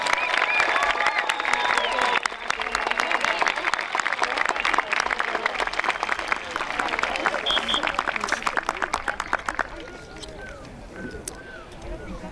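Dense applause and scattered cheers from a crowd at the Colonia Middle School class of 2023 promotion ceremony, loud and continuous before easing toward the end, with no speech over it.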